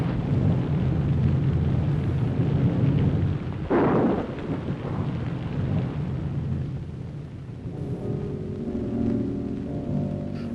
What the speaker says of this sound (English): Oh, I love a rainy night